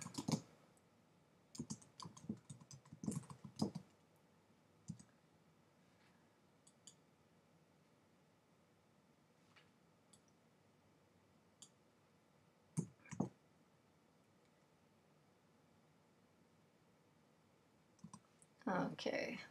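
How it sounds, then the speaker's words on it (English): Someone types on a computer keyboard into a PowerPoint text box, with bursts of quick close key clicks separated by quiet pauses and a louder flurry at the end, with no talk over the typing. "And type in what I want."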